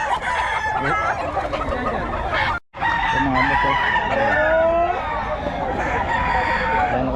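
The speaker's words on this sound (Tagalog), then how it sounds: "Manok ko tsaka manok niya" Roosters crow loudly and close by, with several overlapping cock-a-doodle-doos and clucking, while someone speaks briefly over them.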